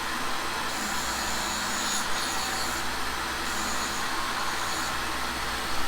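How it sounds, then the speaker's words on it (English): A workshop vacuum fitted with a household filter cone runs steadily for the whole stretch, a loud unbroken motor whine and airflow rush with no talk. "It's really nice to have that vacuum work so efficiently."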